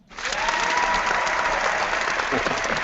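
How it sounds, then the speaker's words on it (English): Applause from a live audience at a presentation, swelling quickly into a full, even burst of clapping that carries on steadily for a few seconds. "Let's do the applause again."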